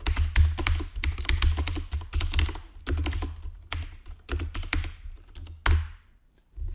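Fingers type on a computer keyboard in quick, uneven bursts of close, clicky keystrokes, with a short pause near the end before a few final taps.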